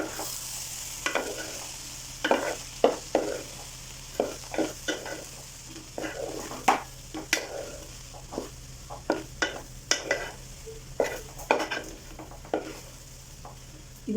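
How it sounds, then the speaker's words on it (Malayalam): Cooked rice stirred into softened, frying onions in a pan: irregular scraping and clattering strokes of a spoon against the pan over a faint sizzle, close and fairly quiet. "ഇനി ഉള്ളിയിലേക്ക് ചോറ് ചേർത്ത് കൊടുക്കാം"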